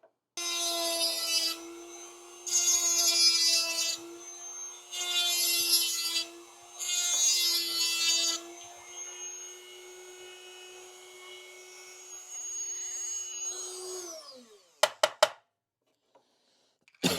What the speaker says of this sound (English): that's where the sanding wheel is going to come in